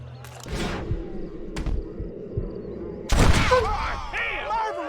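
Gunfire in the Western video game Red Dead Redemption: a few sharp, loud reports with short echoing tails, interleaved with game voices speaking over a low background.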